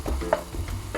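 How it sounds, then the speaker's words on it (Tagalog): Garlic sautéing in hot cooking oil while stir-frying kangkong in a home kitchen, a short close sizzle with stirring scrapes. "Ayan, lagyan natin yung mantika. Then, bawang. Gisahin natin ito."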